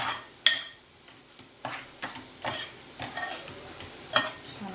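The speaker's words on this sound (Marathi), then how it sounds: "असं परतून घ्यायचं आहे" Spiced fish curry masala with salt and garam masala being sautéed in a pan, a bright steady sizzle broken by repeated spoon scrapes and stirs at an even rhythm, close and clear.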